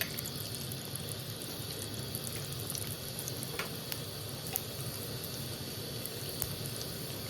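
Mustard seeds, chana dal and cumin sizzle in hot oil as a tempering for a tomato and tamarind chutney, forming a steady low hiss broken by scattered faint pops and crackles.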